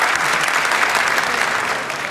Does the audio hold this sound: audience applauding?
yes